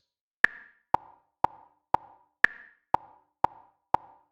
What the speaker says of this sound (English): 2 beats a second, sounds like this.